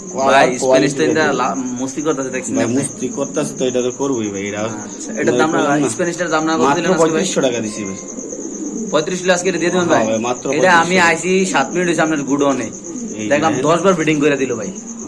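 Pigeons at a pigeon market coo softly in the background, their low rolling calls partly buried under loud, continuous nearby conversation, with a steady thin high whine running throughout.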